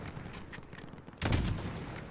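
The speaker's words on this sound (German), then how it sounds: "Guter Schuss, Alex." Gunfire in the video game Call of Duty Modern Warfare, a burst of rapid shots followed by a louder, heavier blast near the middle, with no talking.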